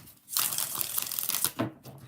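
Tarot cards being shuffled produce a brief, soft papery riffle and rustle, close and quiet, lasting about a second with a small flick at the end.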